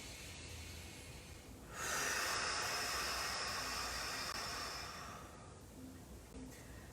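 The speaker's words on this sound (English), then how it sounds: "Loud breathing, strong breathing, belly breaths." Loud, deep belly breathing during a strong high lunge yoga workout: a single long, forceful breathy rush swells in near the mic and holds steady for a few seconds before easing off, with no talking.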